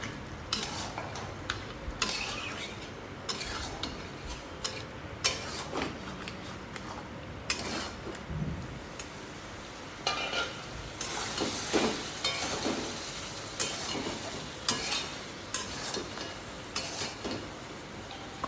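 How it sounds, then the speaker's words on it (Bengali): Tomato paste for mutton curry fries quietly in a pot while being stirred, with repeated scraping strokes and metallic clinks of the spoon over a faint sizzle, rhythmic and close, with no speech. "টমেটো পেস্টটা দিয়ে এখানে আমি আবার 10 মিনিট কষিয়ে নেব"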